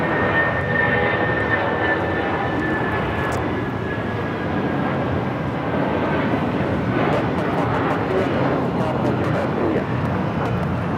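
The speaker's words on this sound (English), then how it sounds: "taking off to Houston Intercontinental on the 757-200" A United Airlines Boeing 757-200 taking off at LAX, a loud continuous jet engine roar with a broad rumble that holds steady throughout, heard from a spotting position outdoors.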